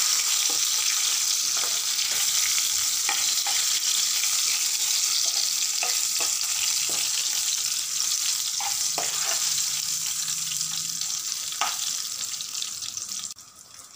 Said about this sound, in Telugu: తర్వాత కరివేపాకు, ఇవన్నీ మంచిగా ఎర్రగా వేయించుకున్నాము.